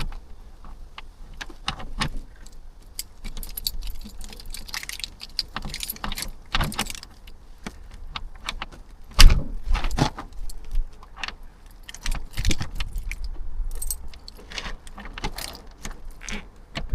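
Car keys jangle and scrape against a frozen padlock in winter cold, with repeated metallic clinks and rattles as they are jiggled, plus a sharp louder knock midway.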